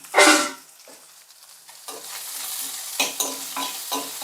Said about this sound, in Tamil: இப்போ தேங்காயும் நல்லா சேர்த்து வதக்கிக்கலாம்